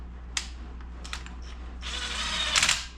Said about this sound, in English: now we just need to go on ahead and wind down the pressure plate screws